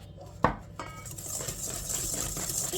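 Egg white being stirred with powdered sugar in a bowl for gingerbread icing: a sharp clink of utensil against the dish, then steady soft scraping and mixing sounds, close up with no talking.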